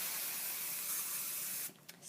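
Hairspray hisses steadily from an aerosol can onto pinned, styled hair in a continuous close spray lasting most of the moment, then cuts off into brief quieter bursts.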